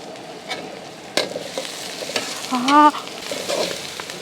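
Sliced onions and curry leaves in hot oil fry with a close sizzle, broken by sharp spoon clanks and stirring scrapes and a short squeaky metallic scrape.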